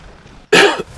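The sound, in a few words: coughing into the microphone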